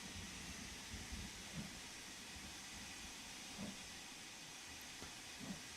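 Steam locomotive in Train Sim World 3 chuffing under a constant loud hiss of steam, with four soft, evenly spaced low exhaust beats about two seconds apart.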